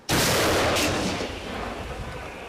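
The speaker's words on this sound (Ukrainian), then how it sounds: "Постріл!" A single loud gunshot cracks sharply, then a long rumbling echo rolls out and slowly fades over the next couple of seconds.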